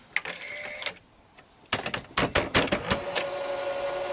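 A faulty Quasar VH5471-K VCR mechanism kicking into motion after a tap, a burst of rapid mechanical clicks and clacks settling into a steady motor whir, close and alone.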